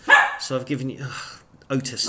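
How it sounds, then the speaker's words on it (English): A new puppy lets out a few sharp, close barks and yips interleaved with someone speaking nearby. "That's my dog, my new puppy."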